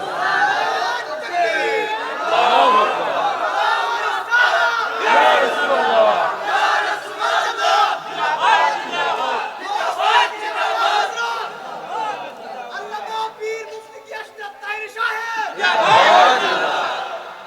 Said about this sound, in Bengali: যুবকের হাত তুলে স্লোগান লাগাবে ইনশাল্লাহ